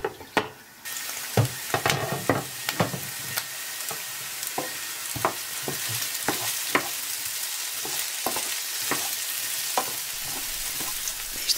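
Rice toasting in a lidded pot, with a steady low sizzle broken by frequent scraping and clinking strokes as the grains are stirred, close and fairly quiet throughout.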